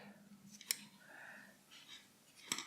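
Scissors snip a knitting stitch in garter stitch fabric, two sharp close clicks about two seconds apart with soft handling sounds between.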